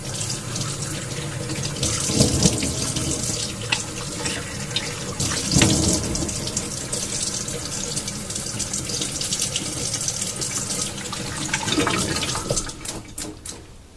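Tap water runs steadily into a sink for rinsing off after a wet shave, a continuous close splashing flow with brief louder surges and no talking.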